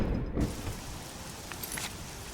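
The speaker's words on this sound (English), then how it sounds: "We don't want to stand about in the rain all day." Steady rain hisses in Oblivion's outdoor world near the town of Anvil, a constant even wash of drizzle with no voices and no other clear events.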